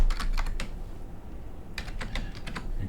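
Quick bursts of computer keyboard typing, close and clear, in two short flurries separated by a brief pause.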